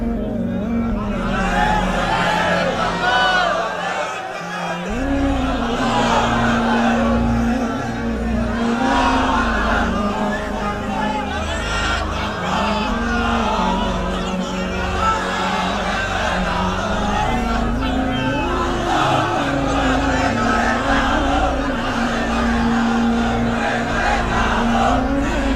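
A large crowd at a religious lecture chants slogans in unison. The chanting is loud and continuous, and after a brief dip the voices swell again in rhythmic waves.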